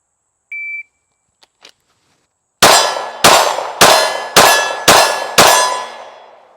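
Six loud, sharp reports from a Glock 19 Gen 5 pistol during a 1,000-round burndown test, evenly spaced about half a second apart with ringing decays, preceded by a short electronic beep and faint clicks.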